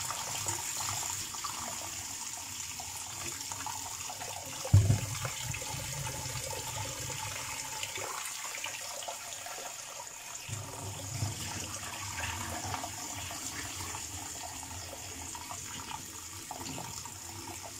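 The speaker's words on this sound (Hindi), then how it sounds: "मैं इसका पानी इस तरह चेंज करती रहूँगी।" Running water in a kitchen as the rinse water for rice being washed is poured off and replaced, a steady flowing wash with a brief splash or knock partway through, fairly quiet and without talk.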